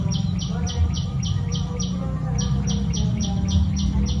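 Repeated bright bird chirps in a steady rhythm over a constant low background hum, close and clear, with brief pauses between bursts.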